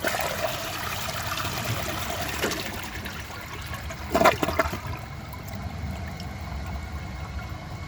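A 2011 Vortens Vienna toilet flushes a washcloth and a grocery bag: a steady rush of water with a brief gurgling surge in the middle before it settles back to a trickling flow.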